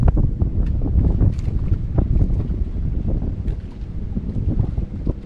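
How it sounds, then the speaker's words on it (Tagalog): A strong amihan monsoon wind blows across a boat at sea off Palawan, a continuous, loud, low buffeting roar with gusty rumbles against the microphone. "nagsimula na naman yung amihan"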